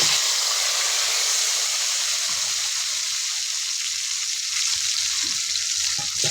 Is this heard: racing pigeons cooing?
no